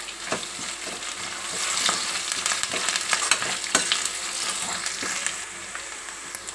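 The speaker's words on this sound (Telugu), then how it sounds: "ఇవన్నీ మంచిగా వేగినాయి కదా." Green chillies and curry leaves sizzle steadily in hot oil for a prawn masala, a dense continuous frying crackle with scattered sharper pops and occasional stirring clinks, close and fairly loud with no talking.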